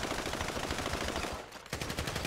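Sustained automatic gunfire in Grand Theft Auto 5, a dense loud rattle of rapid shots that breaks off briefly near the end before resuming just as hard.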